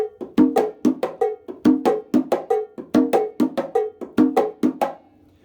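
Congas lay down the ChachaElekefuñ itotole pattern while time is kept on a bongo bell, crisp drum strokes and bright metallic hits repeating in an even cycle, close up with nobody talking.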